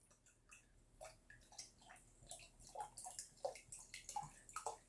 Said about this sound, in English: Let's pour this into the glass.